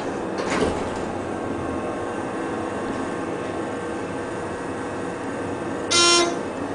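A ThyssenKrupp hydraulic elevator with vandal-resistant fixtures at a resort in Orlando, Florida, runs with a low steady hum, a brief door or mechanism clunk near the start, and a short bright chime near the end.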